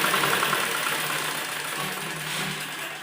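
A sewing machine runs steadily while stitching the fitting seams of a blouse, a continuous close mechanical whirr with little variation in pace and no pauses across the stretch.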